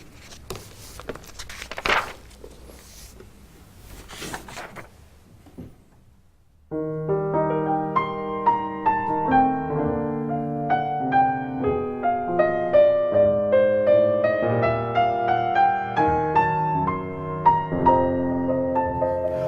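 A second-act motif from Wagner's opera Tristan and Isolde plays as a flowing sustained orchestral passage, starting after several seconds of faint rustling and handling noise, then continuing steadily and moderately loud without talk.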